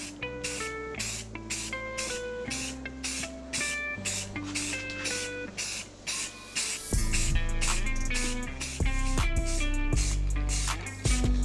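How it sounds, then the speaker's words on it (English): A can of satin moss green spray paint hisses in repeated short bursts, then longer sustained passes, as a base camouflage coat goes onto a kayak, loud and close with faint rattles between sprays. "I'm gonna start out with this satin moss green spray paint."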